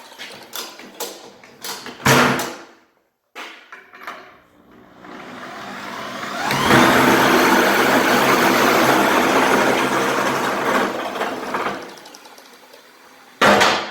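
An old generator, rigged to run from a tractor's PTO on a three-point hitch, runs with a loud, continuous rumbling roar for several seconds and shakes, after a few scattered clanks and knocks.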